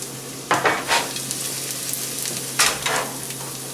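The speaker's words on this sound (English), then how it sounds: "we're going to throw in the garlic I have prepared" Garlic sizzles in hot olive oil in a pan, a steady frying hiss with a few louder bursts as it is stirred, close and with no talking.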